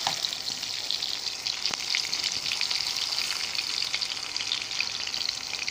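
Salisbury steak patties fry in a pan with a dense, continuous hiss of sizzling fat, close and steady throughout, with a faint tap or two.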